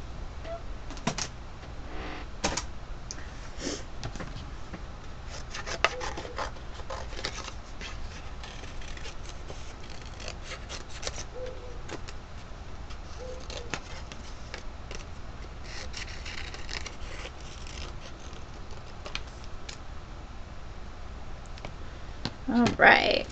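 Scissors snipping steadily through paper while fussy cutting sunflowers for a handmade card, a long run of small close crisp cuts and rustling paper, with a faint voice present underneath.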